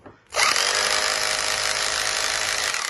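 A vintage late-1970s breaker drill kicks on after a short clunk and runs continuously, loud and close, with a dense buzzing mechanical roar. No one speaks over it.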